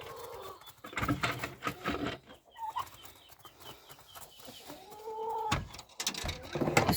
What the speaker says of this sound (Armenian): իսկ այստեղ հավերն են